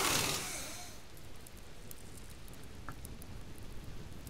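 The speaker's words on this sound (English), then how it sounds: "Now it's raining." Steady rain falling in the survival game Subsistence, a soft continuous patter after a brief louder rush at the start, with no speech.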